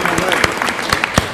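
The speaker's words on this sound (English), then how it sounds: "so we want to applaud her for that" Brief applause for a newly named IT director at a city council meeting, scattered hand claps rising up loud and close for about a second.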